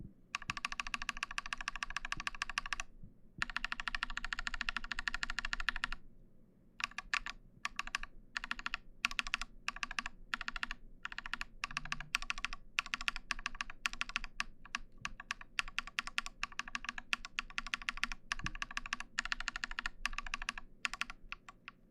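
Steady, rapid typing on a mechanical keyboard fitted with lubed Holy Panda, Holy Kiwi and Kiwi tactile switches, close and crisp clacks in continuous bursts separated by brief pauses, with no talking.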